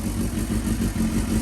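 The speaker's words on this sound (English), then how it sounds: "Fresh turn, first crank of the year." A rebuilt Suzuki GSX-R 600 motorcycle engine makes a continuous, close, loud rumble, heard alone.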